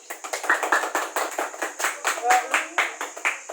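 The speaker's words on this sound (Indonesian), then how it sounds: "mari kita bertepuk tangan untuk kita semua" A group at a training session claps together in quick, fairly rhythmic bursts, close and crisp, with a few voices faintly mixed in underneath.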